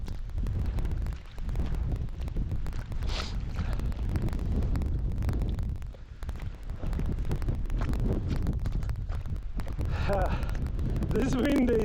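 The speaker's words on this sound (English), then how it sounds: "This wind is actually, well, it's not as strong as it was when we were on the top there" Strong wind buffets the microphone on a hiking trail in Norway, a loud low roar that surges and dips with gusts, and a voice briefly talks near the end.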